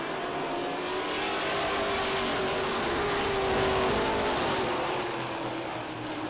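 Pro stock race cars at Lee USA Speedway roar around the oval at the start of a 10-lap qualifier, a continuous dense engine drone that swells slightly as the pack passes, heard from a distance with no talk.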